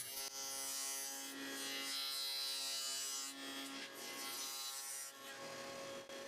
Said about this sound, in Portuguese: Agora posso furar os orifícios de montagem e fazer rasgos para peças de suporte que serão encaixadas depois.